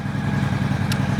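A carbureted motorcycle running steadily at idle, a low, even engine rumble with a faint pulsing throb, close by and alone without talk.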